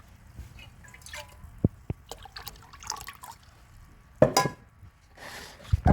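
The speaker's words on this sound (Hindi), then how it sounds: "अब इस बोतल में हम इसको डालते हैं" Cooled sugar syrup is poured into a bottle in a home kitchen, heard as sparse drips and gurgling trickles with a few sharp clinks of glass and utensils, close by and otherwise quiet.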